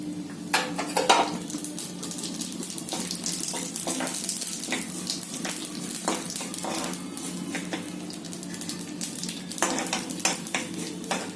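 Poppy seeds dropped into hot ghee in a pan and stirred, a steady sizzle broken by repeated scraping and clinking of the spoon against the pan, no voices.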